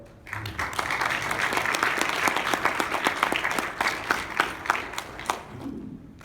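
A convention panel audience at PAX East breaks into applause: a moderately sized crowd clapping steadily and fairly close, with individual claps audible, swelling quickly and tapering off near the end.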